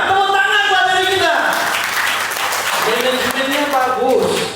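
Applause from a seminar audience rises over a speaker's amplified voice, a steady broad patter of clapping that holds for several seconds while talking continues on top.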